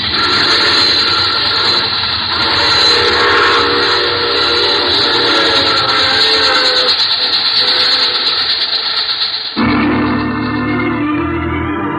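A steam train sound effect for an old-time radio drama: a loud, steady chugging rumble with whistle-like tones runs unbroken for about nine seconds, then cuts abruptly to a different, quieter sound.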